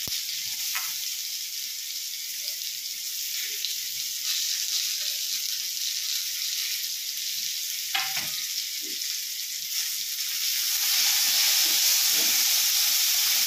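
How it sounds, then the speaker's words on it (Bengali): Potatoes frying in oil with chopped tomato and onion added, a steady loud sizzle running throughout with a few brief stir scrapes, growing slightly more intense near the end. "আলুগুলো মোটামুটি একটু ভাজা হয়ে গেছে। এর মধ্যে এখন টমেটো কুচি আর পেঁয়াজ কুচি দিয়ে দেব।"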